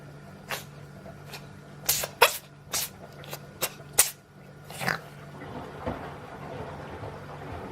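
A cat in a sneezing fit, about ten short sharp sneezes in an irregular burst, close and fairly loud against a quiet room, with a faint steady hum underneath.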